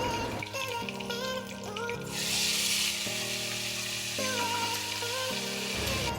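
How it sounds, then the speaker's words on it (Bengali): Black cumin, chopped onions and green chillies hit oil left from frying fish, a loud close sizzle rising sharply partway through over a background of steady musical tones. "এবারে মাছ ভাজার ওই তেলটার মধ্যে আমি চচ্চড়িটা রান্না করব। তো ফোড়নে দিয়ে দেব কালো জিরে আর দিয়ে দেব কেটে রাখা পেঁয়াজগুলো আর কাঁচা লঙ্কাগুলো"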